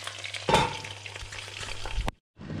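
Shallots fry hard in a pan on a hob turned up full, giving a dense, close sizzle with a louder burst about half a second in, then cutting to brief silence before the sizzle resumes.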